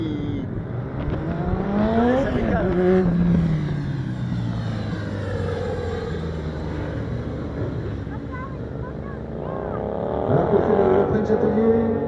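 Café racer motorcycles racing at a 2018 event, engines revving and rising in pitch as they pass, loud and continuous, with people talking over the noise.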